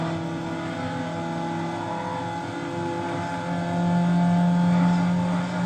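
A racing car engine from Need for Speed Underground drones steadily, then its pitch rises and swells louder toward the end as the car accelerates, with no speech over it.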